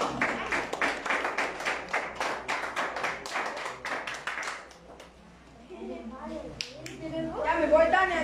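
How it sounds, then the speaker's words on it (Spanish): Applause at a kite festival cultural event in Jacaltenango, a steady burst of clapping from an audience that fades out, followed by a voice speaking over a microphone. "Fuertes aplausos, por favor."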